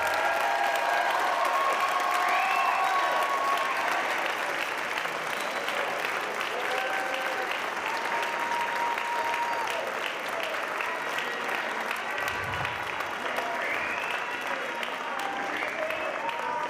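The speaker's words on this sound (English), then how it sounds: "can we have one more giant round of applause for these amazing students?" Audience at a high school pops concert applauds steadily, a dense, fairly quiet wash of clapping with scattered cheers that holds for the whole stretch.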